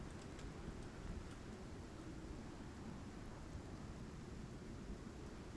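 Heavy rain pours steadily through a storm in the survival game Icarus, with deep thunder rumbling underneath, a constant wash of sound with no voices.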